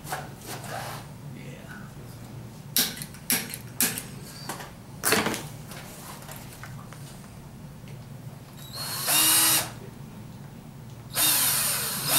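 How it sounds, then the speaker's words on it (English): Short bursts of a power drill whirring into a wooden sea shell carving, several brief runs separated by pauses, with a couple of longer grinding stretches near the end. "I'm just going to do a little drilling in here"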